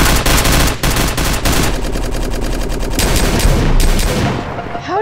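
Rapid automatic gunfire in a first-person shooter video game, loud dense bursts of shots and fusillades filling the clip with brief pauses between volleys.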